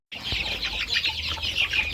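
A mixed flock of chickens, including a Bangkok rooster, Yangon hens and a native village chicken, cluck and chatter continuously nearby, a busy overlapping flock sound at moderate volume with no one speaking.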